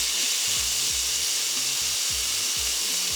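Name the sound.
steak searing in a hot pan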